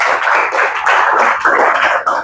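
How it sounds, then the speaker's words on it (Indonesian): Group of primary school pupils clapping in a classroom at SDN Samata, a close burst of rapid, uneven hand claps in bunched pulses that stays loud for a couple of seconds. "Tepuk tangan dong untuk kita semua"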